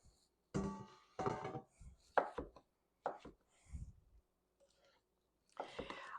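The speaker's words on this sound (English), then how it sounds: "I'm just stacking these eggs on top of each other, and I'm going to dice them into little small squares" Knife dicing stacked boiled eggs on a cutting board, a series of sharp separate chops in uneven bursts with pauses between, close and crisp.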